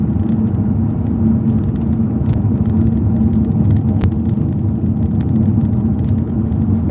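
Steady engine and tyre rumble inside a car driving on a road in South Otago, constant and close, with small knocks and bumps over the top.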